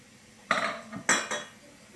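Pap being mixed in a pot, two short close bursts of metal scraping and knocking against the pot, separated by a brief pause and followed by quiet.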